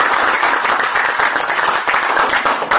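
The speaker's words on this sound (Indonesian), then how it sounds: "Tepuk tangan dong." Sustained applause from an audience at an Indonesian seminar on personal potential and franchising, a dense crowd of hands clapping steadily throughout.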